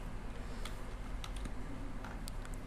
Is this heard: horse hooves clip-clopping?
no